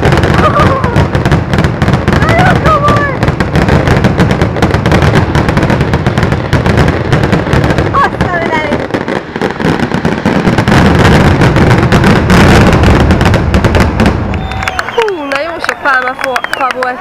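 Fireworks burst continuously at a multi-day fireworks competition in Tarragona, Spain, with loud, dense crackling and booming volleys and whistling streaks near the end, while people talk and call out over the display.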